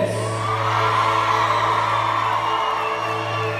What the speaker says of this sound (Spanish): El grito de todas las mujeres.